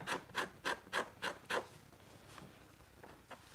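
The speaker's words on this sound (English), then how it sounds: "Been using this in my hatchet to scrape these hides, and it works really well." A hatchet blade scraping animal hides to break up the fibers, heard as six rhythmic, evenly spaced rasping strokes close by, then a few fainter, scattered scrapes.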